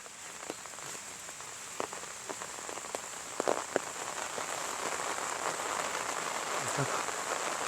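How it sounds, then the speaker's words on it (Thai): Steady rain falling in a rural village in Isan, Thailand, a constant close hiss of drops on surfaces with scattered louder drips, no talking. "เสียงฝนเนาะ"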